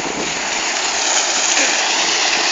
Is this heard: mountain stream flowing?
yes